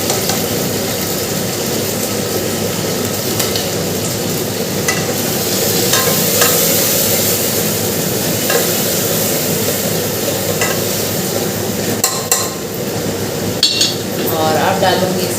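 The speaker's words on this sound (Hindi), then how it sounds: "तेल गरम हो गया। अब डाल दूँगी इसमें गंवार पाठा। और गंवार पाठे के साथ ये डाल देती हूँ दाना मेथी इसमें।" Aloe vera pieces and fenugreek seeds fry in hot oil while pickle is being made. A loud, continuous sizzle runs throughout, with scattered clinks of a spoon stirring against the pan.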